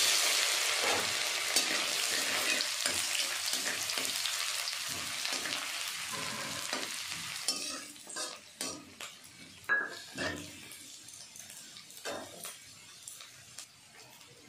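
Four bay leaves and a pinch of radhuni spice hit hot oil for tempering, giving a loud, dense sizzle that fades. Scattered clinks and scrapes of a spoon stirring in the metal pan follow.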